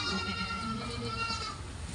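On a farm raising hundreds of goats, many goats bleat in a dense, continuous chorus that holds steady, then thins slightly toward the end, with faint voices underneath.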